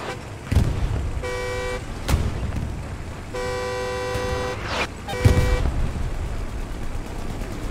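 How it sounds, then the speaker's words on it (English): A car horn honks in several sustained blasts with short gaps, loud and close, over engine rumble and game sound effects from the WWII video game Hell Let Loose. "I'm going to honk the horn the entire time"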